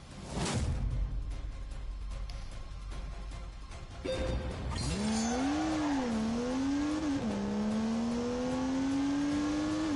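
Tyres scrabble in a brief wheel spin in a Gran Turismo style racing game on PS4, then a car engine climbs and holds a loud, steady rising whine as it accelerates away close by.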